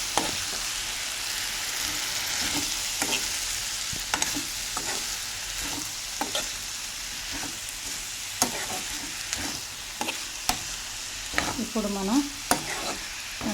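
Green chillies and tomato pieces fry in a pan with a constant sizzle, while a spoon scrapes and knocks against the pan in repeated stirring strokes and a voice speaks briefly.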